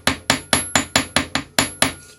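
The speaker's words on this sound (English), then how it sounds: "gently planish the hook" A planishing hammer taps a wire earring hook against a metal block, eight sharp, evenly spaced ringing strikes at a quick steady rhythm, close and clear with no voices.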